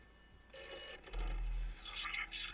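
A telephone rings in the video game Atomfall, sounding in bright electronic bursts that start and stop over a low background tone.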